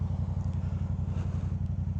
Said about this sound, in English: With my M4 exhaust, the thing growls at low RPM up to high RPM.